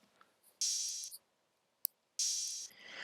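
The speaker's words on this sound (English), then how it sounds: "And then I just added these open hats" Two bright, hissing open hi-hat hits ring out and decay, separated by a pause with a tiny tick between them.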